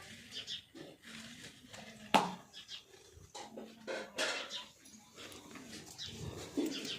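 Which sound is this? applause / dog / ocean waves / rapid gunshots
dog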